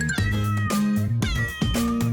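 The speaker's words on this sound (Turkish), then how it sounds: "Men pisiktik Miau," A cat meows several times in quick succession, loud and close. The drawn-out, wavering cries overlap slightly and come in a rough rhythm within a children's song.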